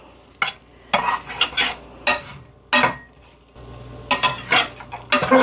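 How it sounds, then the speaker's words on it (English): Almonds toasting in a pan for a green bean dish, with a low sizzle under repeated loud scrapes and clinks of a utensil stirring against the pan, in irregular bursts. "I want the almonds to get toasted, not my pan."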